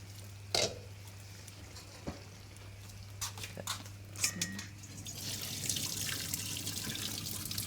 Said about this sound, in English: Do it over the sink. So we need to drain the potatoes.